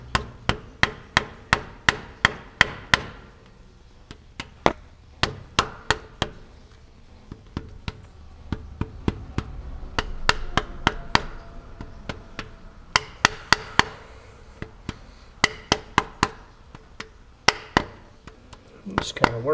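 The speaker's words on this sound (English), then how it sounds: "light tapping with your rubber mallet" Sharp, light taps repeat in quick bursts from a rubber mallet knocking a timing chain gear onto a Ford 289/302 small-block engine, close by, with a low hum and faint talk beneath.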